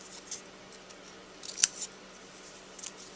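Scissors snipping small pieces off a paper card in a craft project, a few quiet close cuts with one crisp, distinct snip in the middle, no talking.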